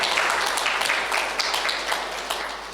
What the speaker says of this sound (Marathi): सर्व कलाकारांचं जोरदार टाळ्या वाजवून पुन्हा एकदा आपण अभिवादन करूया